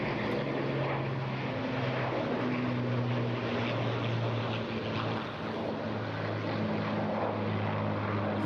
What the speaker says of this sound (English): as they conduct a series of graceful passes prior to the Typhoon commencing its high-performance solo display